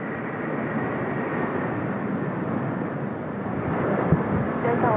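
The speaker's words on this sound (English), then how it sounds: "long takeoff roll there from the Asiana 330" An Asiana Airbus A330 on its takeoff roll at Seoul Incheon Airport makes a steady, broad jet roar that swells slightly toward the end, heard alone without talk.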